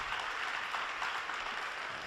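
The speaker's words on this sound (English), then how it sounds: "Give yourself a round of applause." A church congregation at a Lutheran sermon applauds, a short burst of moderately faint, even clapping throughout.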